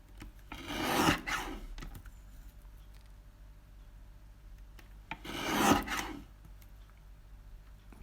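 A paper trimmer slices sentiment strips for stamped crafts in two loud rasping strokes, a few seconds apart, with quiet between them.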